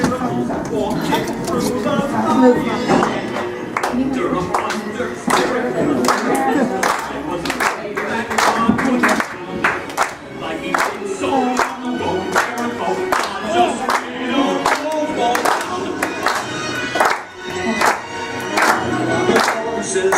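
Wedding guests clap along to a beat over loud live music, with sharp rhythmic hand claps and occasional clinks of dishes amid a lively crowd.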